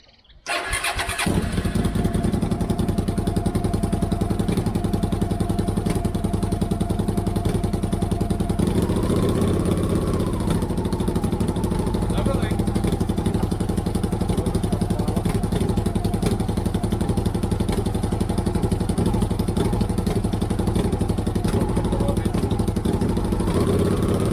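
A Hyosung 650 motorcycle engine cranks and catches, then settles into a loud, steady idle that runs on for a long stretch, close and continuous.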